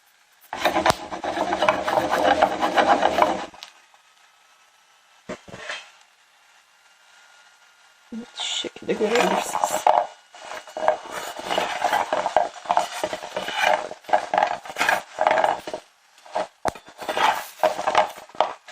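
Chestnuts are turned in a pan as they roast, making dry scraping and rasping bursts, close and fairly loud, with pauses between the stirring passes.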